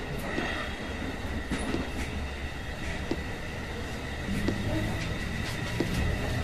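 Subway train approaching through an underground station, its rumbling wheels growing heavier with faint clicks and squeals, the whole sound steady and moderately distant.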